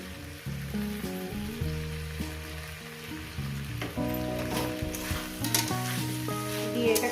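Food cooks in Amul ghee in a pan for a fish-head chochchori, with a loud, continuous sizzle and frequent stirring scrapes close by. No one talks, and faint tonal music plays underneath.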